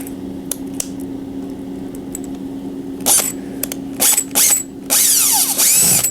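A power driver sinking small wood screws into a Pac-Man cabaret mini arcade cabinet, with a few ratcheting clicks followed by several loud whirring bursts of the tool, close by, over a steady low hum.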